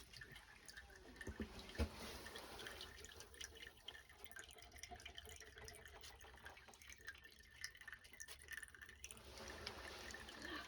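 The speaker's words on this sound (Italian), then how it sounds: "L'acqua che scende" Water trickles and drips at the Su Tempiesu sacred spring in Orune, a faint, continuous splashing flow with a few louder drops, heard alone in a quiet stone setting.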